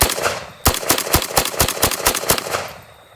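Rapid string of about nine loud, sharp reports from a Romanian PSL rifle chambered in 7.62x54R, fired outdoors into the dirt, each crack evenly spaced with a short ringing tail, the volley stopping cleanly.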